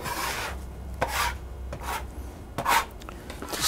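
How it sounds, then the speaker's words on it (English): Spinach and cheese filling for Greek spanakopita is chopped in a bowl with a utensil, giving a few scraping, chopping strokes at an irregular pace. The strokes are close and moderately loud, with no speech. "I just want to chop this up a little bit"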